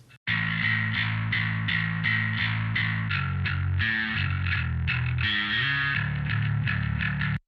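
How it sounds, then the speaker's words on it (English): Bass guitar DI run through a Rat distortion pedal plugin into an amp, playing a steady, loud distorted riff with gritty effects that runs continuously for the whole passage, no voices. "I actually used a Rat distortion pedal plugin on the DI going into the amp"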